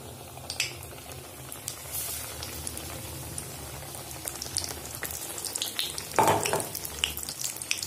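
Batter-dipped onion slices for bajji frying in hot oil, a steady bubbling sizzle with crackles throughout and a louder surge near the end as more pieces go in, close and unaccompanied by talk.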